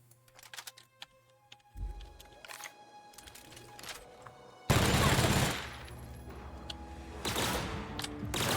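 A heavy weapon fires in The Outer Worlds, starting with a few scattered shots and mechanical clicks and then erupting into a loud, sustained roaring barrage that continues to the end.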